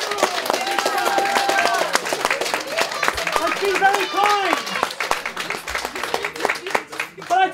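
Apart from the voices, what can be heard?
audience applause for Nick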